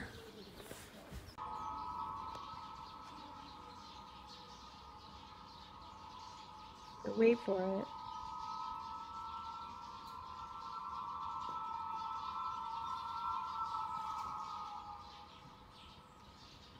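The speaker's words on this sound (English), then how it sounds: "what pigeon whistles sound like" A faint, steady, eerie whistling drone holds one pitch for many seconds over quiet outdoor background, with a short spoken phrase partway through.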